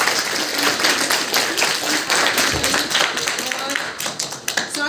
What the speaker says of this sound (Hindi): शाबाश, तालियां बजाने के लिए।